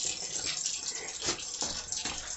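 Tap water runs steadily into a kitchen sink, a continuous close rushing splash with no talk over it.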